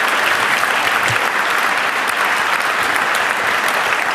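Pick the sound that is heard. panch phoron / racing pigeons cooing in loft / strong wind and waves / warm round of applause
warm round of applause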